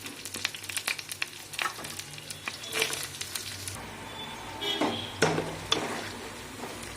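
Onions and curry leaves dropped into hot oil give a soft, close crackling sizzle, with a few sharper pops and stirring clinks scattered through.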